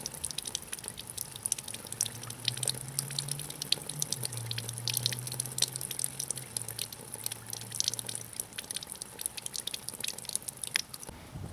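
Flush fluid bubbling and trickling out of the cooling system of a 2000-2007 Ford Taurus, a steady wet gurgle and drip running close by for the whole stretch, with a low hum rising briefly in the middle.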